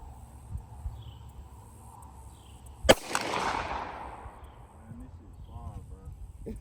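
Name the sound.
Glock pistol gunshots at 150 yards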